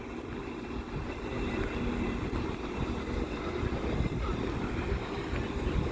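A pair of coupled Class 158 diesel multiple units on an East Midlands Railway service pass through Chesterfield station in a steady, moderately loud rumble with a faint tonal whine, lasting the whole stretch.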